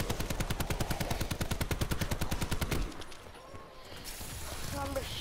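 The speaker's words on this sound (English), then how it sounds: "I'm just spamming my gun because I don't care right now" Rapid, evenly spaced gunshots from a weapon fired repeatedly in a zombies video game, a steady fast rattle for nearly three seconds that then stops, leaving quieter game ambience and faint effects.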